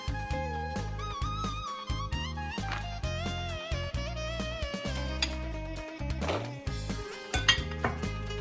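A spoon clinks and scrapes against a dish, mixing red onion, beans, coriander and pomegranate seeds, with repeated light knocks under steady background music.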